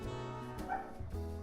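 A dog barks at a door to be let in: a few sharp yips and barks with a whimpering edge, close and fairly loud, with no voices.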